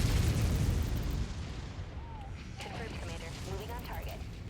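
Missiles exploding in the Mechwarrior 5 video game, a heavy rumbling blast that decays over a couple of seconds, followed by a voice speaking over lingering battle noise.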